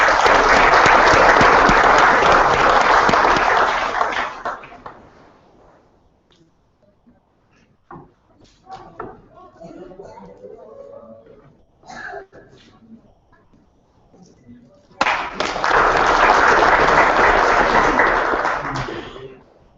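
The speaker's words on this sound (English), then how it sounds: "Please welcome Dr. Menon with a great big round of applause." Audience applause at a convocation ceremony: a loud burst of clapping fades after several seconds, then quiet rustles, taps and shuffling follow before a second full round of applause starts suddenly.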